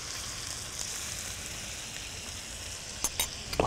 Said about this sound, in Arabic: وهسيب بقى الجمبري ياخد سواه